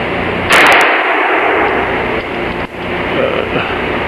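Gunfire from a .22 caliber handgun or rifle cracks loudly once near the start, then a second sharp report lands partway through, each close and followed by a lingering noisy outdoor tail.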